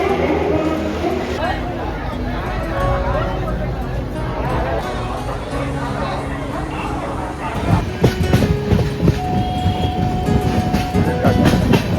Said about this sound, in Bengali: আমরা ট্রেনে উঠে পড়েছি। হাওড়া থেকে ট্রেন স্টার্ট করে দিয়েছে।